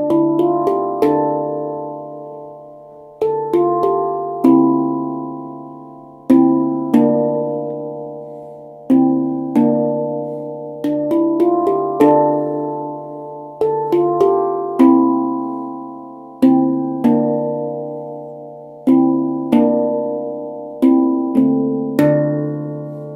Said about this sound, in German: Also ich lege mal los auf der D-Moll Kur8.